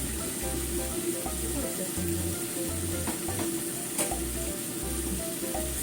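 Tomato, egg and maitake mushrooms stir-fry in a pan with a steady close sizzle and bursts of stirring and scraping throughout, no voices.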